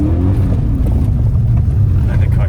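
Engine of a BMW M5 E39 driven on a winter road, a loud, deep, steady rumble from inside the car, with a slight rising pitch early on.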